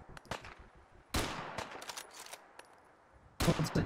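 Bursts of gunshots fired at a creature in Fallout 4 on Ultimate Survival difficulty, several sharp loud volleys with short pauses between them and a heavier burst at the end, no talking.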